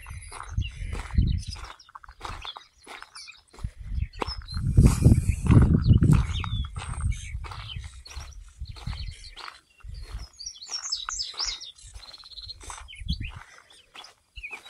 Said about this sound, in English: I don't know what kind of birds, but they sure do sound pretty.